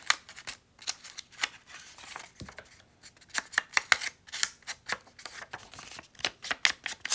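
Paper being torn by hand for a junk journal makes a series of short, crisp ripping bursts, close and fairly quiet, in uneven rhythm with brief pauses between tears.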